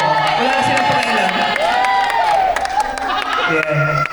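A crowd at a fun run awarding ceremony in Thailand claps and cheers, a dense continuous roar of applause and shouts with voices mixed in throughout.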